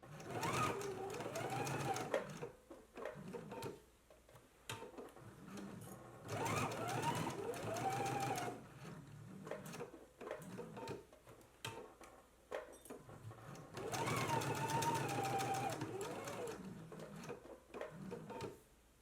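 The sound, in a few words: sewing machine stitching pocket seam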